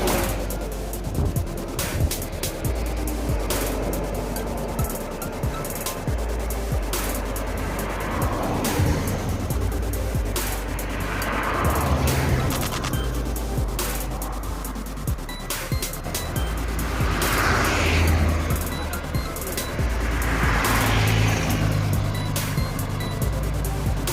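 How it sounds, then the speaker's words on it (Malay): An Epastar intercity bus drives along the Trans-Sumatra highway toward Palembang, a continuous loud road roar with engine drone, wind and rattles, and other traffic passing, sustained throughout. "Bus Epastar yang kedua menuju Palembang"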